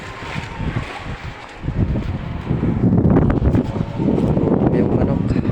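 Strong gusting wind buffets the microphone outdoors, a rough rumbling roar that swells and stays loud, with voices talking over it.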